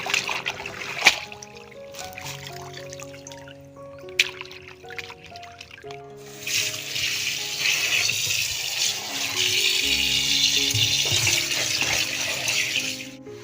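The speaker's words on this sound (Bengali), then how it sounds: "মাছগুলোকে ভালো করে নিয়ে পুকুরে ধুয়ে নেব" Water splashes and trickles as fish are rinsed in a pond, starting with light intermittent dribbles and turning into a steadier, louder wash of flowing water in the second half.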